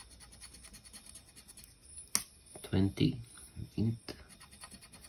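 Lottery scratch tickets being scratched with steady rasping strokes up close, with a sharp tap partway through, while a person speaks over the scratching.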